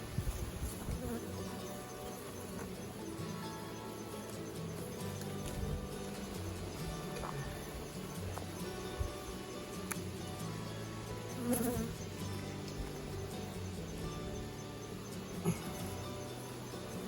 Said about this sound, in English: There's a lot of bees, oh my gosh.